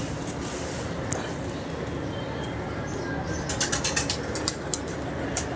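Pigeons give soft cooing and occasional wing flaps over a steady background rumble, with brief sharp flutters clustering in the second half, fairly close but not loud.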